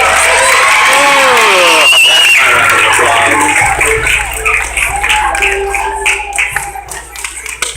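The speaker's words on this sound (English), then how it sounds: "So give yourselves a round of applause." Audience at a strongman show clapping and cheering in a loud burst, with shouts and whoops over the applause, then thinning into scattered claps as talk resumes.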